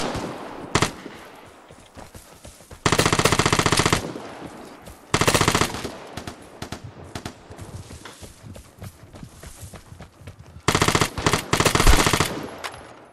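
Bursts of automatic gunfire from the video game Vigor, played on PS5: several long, loud rapid-fire volleys separated by quieter stretches with a few single shots and faint movement, close-up and with no talk.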